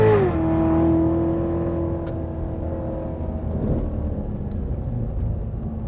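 Steady engine roar from a 2015 Chevrolet Corvette Z06 on a race track, with a sustained low hum and revving, continuous throughout with no voices.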